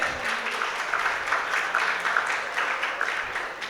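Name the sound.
audience applause for a student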